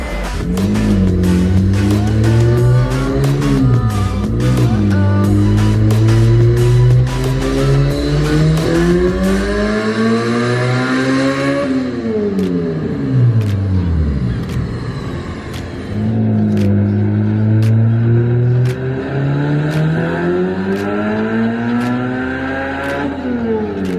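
A supercharged K24-powered Honda Insight on track at 13 psi of boost, engine revving hard through rising and falling gears with crisp shifts, a brief lift-off dip, then pulling loud again close to the microphone.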